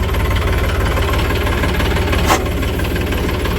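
A tractor's diesel engine runs at a steady idle, loud and close, with a rhythmic knocking throb and one brief sharp click near the end.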